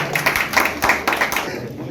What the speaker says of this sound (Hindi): एक बार स्वागत कर दीजिएगा आप सबकी तालियों के साथ।